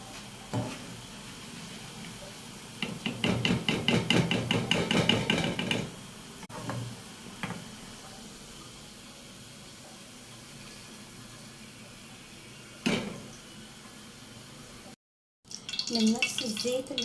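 Onions dusted in flour and starch sizzle crisply in hot oil in a home kitchen, a steady crackling hiss that swells and fades with a few sharper bursts, heard close with no talk over it.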